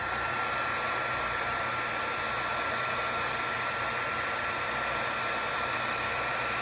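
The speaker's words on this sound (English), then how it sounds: "So, take the heat gun one last time." Heat gun running steadily at close range, blowing hot air over a cured repair compound to gloss it until it starts to smoke; a continuous, even blower roar with a whine, no talk.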